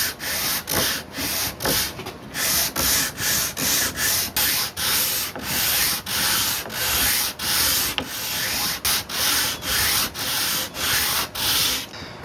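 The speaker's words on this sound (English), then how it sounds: "with that bit of sanding and a little bit more planing off camera" Sandpaper rubbed over a wooden violin fingerboard in quick, even back-and-forth strokes, a bright rasping scratch repeating steadily about once per second, close and loud with no talking.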